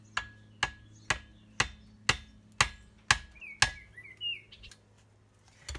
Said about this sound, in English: I'm actually going to split this wood with my chisel. And the back of my trusty hatchet.